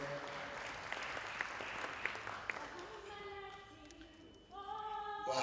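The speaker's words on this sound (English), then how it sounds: "Can we give her a big round of applause?" An audience at a school awards ceremony honouring top-performing schools and matriculants applauds a sponsor with a dense, sustained roar of clapping that fades after a few seconds as voices rise into singing.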